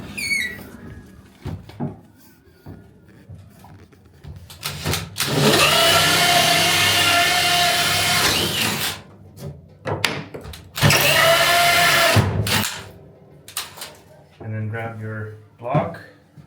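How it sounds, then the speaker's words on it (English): Two loud bursts of power drilling with a hole saw through barrel sauna wood, each a few seconds long, separated by quieter handling noises and a short mechanical rattle near the end. "And then finish drilling from the inside."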